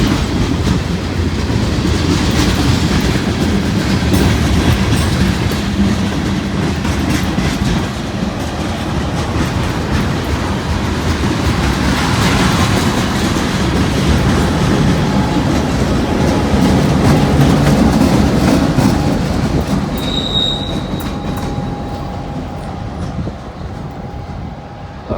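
A freight train with a caboose rolls steadily past nearby, its wheels clacking in a continuous rhythmic rumble for over twenty seconds, with a faint squeal toward the end as the cars keep going.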